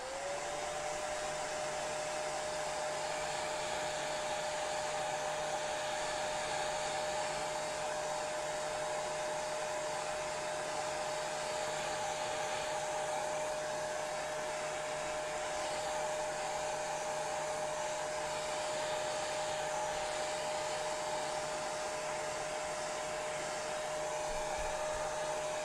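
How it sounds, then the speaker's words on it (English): A hair dryer blowing continuously at a desk, a steady close whooshing roar with a constant whining motor tone that holds unchanged for the whole stretch, with no voices. "I'm going to blow dry this and dry it a little bit"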